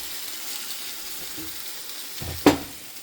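Blueberry scrambled eggs being stirred in a pan under a soft continuous sizzle, with a sharp scrape or clack near the end and no speech.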